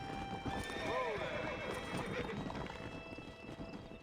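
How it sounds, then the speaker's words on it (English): In the Red Dead Redemption game, a horse neighs once with a clear whinny while hooves clip-clop steadily underneath, all at a moderate level. "Aquí lo tienes, el caballo."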